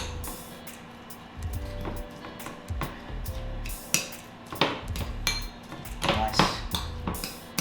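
Chipotle sauce and chopped parsley stirred together in a bowl for steak tacos, giving irregular clinks and scrapes of a utensil against the dish, with low thumps and a faint hum in the background.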